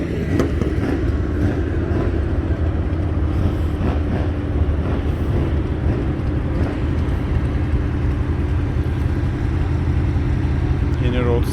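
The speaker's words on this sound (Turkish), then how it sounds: "Burada Ferrari Dino var. Sesi güzel çıkıyor ama." A Ferrari Dino sports car's engine runs steadily at a car meet in Daikoku, a continuous loud mechanical drone with traffic noise and people talking over it.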